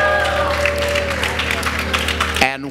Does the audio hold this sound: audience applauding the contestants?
yes